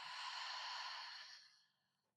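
A long, soft breath goes out through an open mouth during a yoga breathing exercise, a breathy whoosh that fades away over about two seconds.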